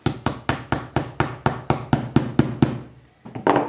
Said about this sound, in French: Voilà, j'aime le marteau.